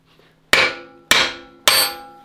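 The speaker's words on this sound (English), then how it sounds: "usually the answer is just keep beating on it with a hammer" Three loud, ringing hammer blows on a steering component of a Dana 60 axle during a full hydraulic steering install, struck one by one at an even pace with metallic decay after each hit.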